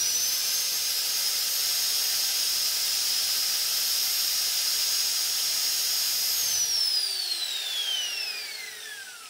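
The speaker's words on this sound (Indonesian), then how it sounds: "coba kita langsung tes lagi menggunakan gerinda ya" An electric angle grinder runs at a steady, loud high-pitched whine while plugged into a digital power meter for a current test, then spins down over the last few seconds as it is switched off.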